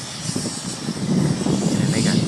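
A helicopter flies overhead at an emergency landing, its engine and rotor making a broad, rumbling drone that grows louder partway through, with faint background noise and no clear talk.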